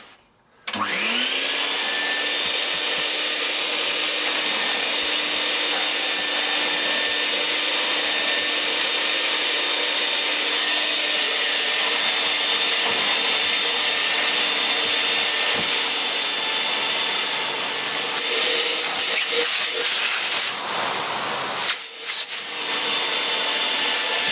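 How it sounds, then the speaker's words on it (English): A Vax 121 vacuum cleaner with floor tool starts up and runs with a loud, steady whine for a long stretch, its pitch shifting slightly near the end as it moves. "pop the floor tool on, and we can give the room a quick vacuum"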